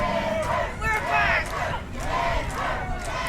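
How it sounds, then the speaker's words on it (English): Wrestling crowd at a Coastal Empire Wrestling Chaos Championship match chanting in loud rhythmic bursts, a repeated crowd chant rising and falling with a steady beat over roomy arena noise. "Listen to this crowd with the pepper chant."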